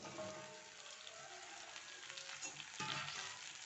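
Okra pieces frying in oil after onions have been lightly cooked, making a steady, close crackling sizzle throughout with a slightly louder burst near the end, no talking.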